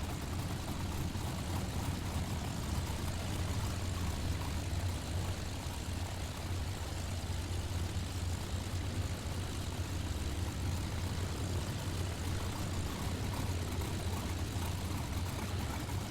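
A SAAB B17 propeller engine runs at a steady idle in Microsoft Flight Simulator, a continuous low droning hum with no voices.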